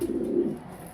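A young pigeon with only nine feathers cooing in a loft in Mirpur, Dhaka: a single low, soft coo close by, heard alone and fading after about half a second.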